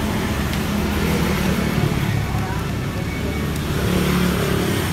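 A Suzuki Skywave scooter engine runs with the battery removed, a steady loud idle with a continuous rough drone and no pauses.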